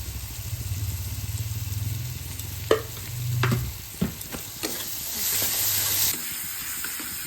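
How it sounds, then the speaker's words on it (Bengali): Spices for palak kachori fry in a hot pan with a steady low sizzle, broken by a few sharp scraping stirs of a spoon, and no one speaks. "মশলা ভাজা হয়েছে"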